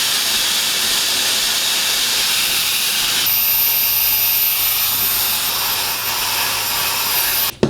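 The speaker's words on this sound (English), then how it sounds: "Using the blow dryer helps it sit and lay a lot better." Steady, close blow dryer roar aimed at hair under a headscarf, a broad continuous hiss that shifts slightly in tone midway before cutting off abruptly at the end.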